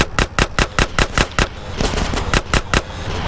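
Drive-by gunfire in GTA San Andreas: a rapid string of loud, sharp automatic shots in an even rhythm, pausing briefly and resuming in a shorter burst over steady background rumble.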